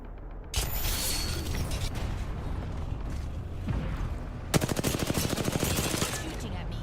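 Rapid gunfire in the video game Apex Legends, with a sustained burst of shots followed by a sharper rattling automatic volley, loud and close, under faint background game noise.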